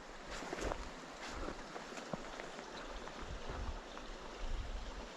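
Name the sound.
small burn stream water running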